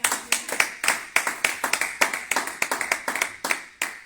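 A church congregation applauding: brisk, close rhythmic clapping from several people, steady and continuous for a few seconds with no talk.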